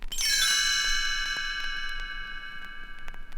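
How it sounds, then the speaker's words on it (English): Bright chimes ring out together at once, then sustain and slowly fade with a long shimmering decay. "You will know it is time to turn the page when you hear the chimes ring like this."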